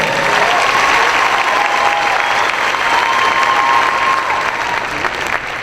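A conference-session crowd gives sustained applause for honored educators, the thick, even clapping staying loud throughout with faint voices threaded underneath.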